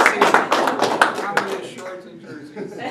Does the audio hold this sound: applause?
yes